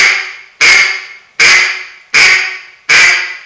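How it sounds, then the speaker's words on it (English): Five loud, evenly spaced duck quacks made on a handheld waterfowl duck call, each sharp-onset nasal blast trailing off before the next, close and alone with no talking. "And then do it through the other side of the call. And all I'm doing is saying the word quack."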